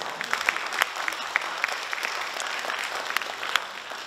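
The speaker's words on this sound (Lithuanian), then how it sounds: "Plojimai salėje, palaikykime merginas." An audience in a hall at a women's fitness bodybuilding competition claps steadily, with a dense patter of many hands and a few sharper claps standing out, heard close and fairly loud without talk.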